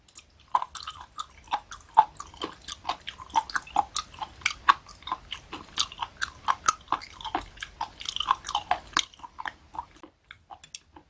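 Close, crisp bites and crunchy chewing of a lettuce wrap filled with spoon worm (gaebul) and scallion salad, in a quick irregular rhythm that runs for about ten seconds, then stops.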